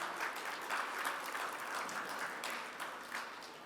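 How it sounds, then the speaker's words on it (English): An audience at a luncheon applauds the staff with steady, fairly faint clapping that holds evenly for several seconds and fades slightly at the end. "A round of applause for the staff here, please."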